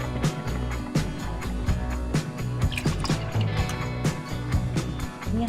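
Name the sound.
pouring water into masoor dal in pan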